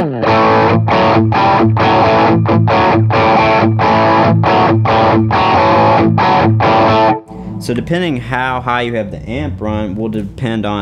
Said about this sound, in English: Now I'm going to dial it all the way forward to where you're hearing all of the pedals.